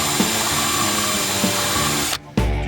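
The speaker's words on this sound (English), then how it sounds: "What I've got here is a small cartridge roll, sandpaper roll, on my cordless drill" A cordless drill whirs steadily with a small sandpaper cartridge roll grinding against material in a Mercedes, close up, then briefly cuts out before spinning up again.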